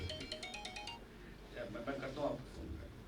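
A mobile phone ringtone plays a short, bright repeating electronic melody, clear for about a second before fading under a man's speech in a workshop room.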